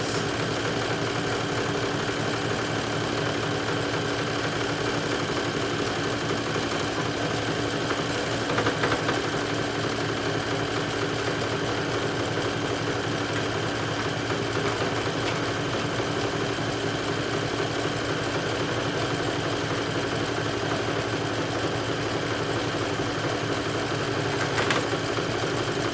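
A sewing machine runs a triple stretch stitch on a swim top, giving a steady, fast mechanical whir and chatter that stays even and continuous throughout, close and alone with no talk.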